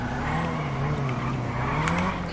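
A GTR drifts on a track in GTA 5 roleplay, its engine droning loud and steady under a continuous tire squeal, with no talk.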